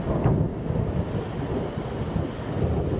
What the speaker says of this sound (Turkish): amma yağmur yağıyor, ıslandım ya.